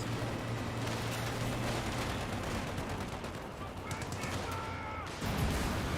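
Machine gun fire in the strategy game Company of Heroes 2, bursts of rapid shots among battlefield noise and engine hum, moderately distant, with a caster's voice talking over the action.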